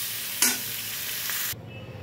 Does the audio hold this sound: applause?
no